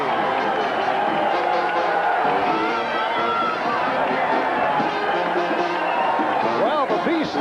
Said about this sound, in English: the crowd responding to the entrance